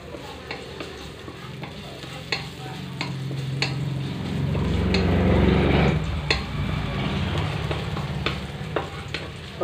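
Garlic sautés in about two tablespoons of oil in a pan, a soft continuous sizzle with scattered stirring clicks and scrapes that swell briefly in the middle.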